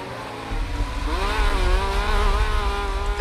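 IndyCar race cars on the Sepang circuit in the Grid video game, a loud continuous engine whine climbing and sliding in pitch as the cars race close by, with no talking.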